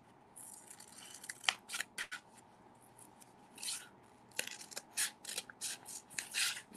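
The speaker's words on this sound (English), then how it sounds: "you get your scissors out" Scissors snip through paper in a series of quick, crisp cuts, close and fairly quiet, with soft rustling between snips.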